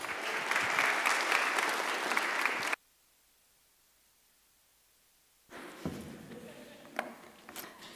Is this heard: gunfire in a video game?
no